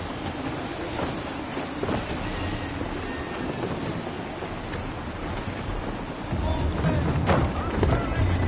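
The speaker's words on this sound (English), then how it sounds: "Gusty winds can be difficult to manage." Gusty wind buffets a sailing ship at sea in Assassin's Creed 3, rushing and roaring with water washing beneath, swelling louder toward the end.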